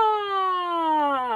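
A human voice imitates a siren, one smooth sustained tone gliding slowly downward in pitch, rich in harmonics, sung alone as a vocal warmup.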